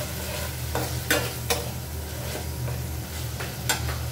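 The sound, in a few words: frying spice masala with tomato in a pan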